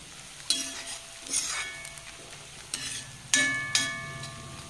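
Spinach frying in a pan for cheera mezhukkupuratti, a steady soft sizzle broken by several sharp clinks and scrapes of a spoon stirring against the pan.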